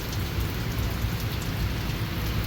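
Steady, dense rain pours down on a road trip toward Gujarat, a continuous close hiss with heavy low rumble and no pauses.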